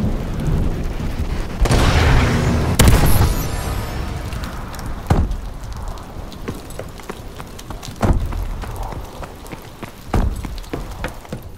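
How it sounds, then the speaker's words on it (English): Missile strike explosions in Call of Duty Advanced Warfare, heavy booming blasts arriving in a loud cluster early, then scattered sharper impacts and rumbling that fade over several seconds. "Friendly missile strikes incoming."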